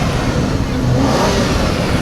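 A Pagani supercar at a supercar parade revs loudly and close by, a continuous engine roar throughout the short stretch with no clear talk.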